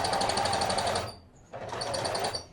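A sewing machine topstitching a garment seam runs in two loud, fast, steady bursts with a short pause between them, its rapid needle rhythm close and dominant.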